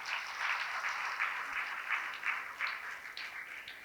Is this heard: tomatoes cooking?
no